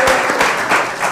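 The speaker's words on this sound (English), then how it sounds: "Give yourselves a round of applause." Brief burst of crowd applause from Ravens fans gathered at a bar on Coastal Highway in Ocean City, loud and continuous hand clapping throughout.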